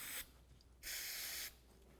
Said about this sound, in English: you can just go ahead, a little bit more brake clean,